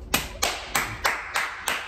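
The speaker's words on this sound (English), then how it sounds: "Oh y'all see me clapping, I'm sorry." One person claps hands six times in a steady, fairly quick rhythm, close and crisp with short gaps between sharp slaps.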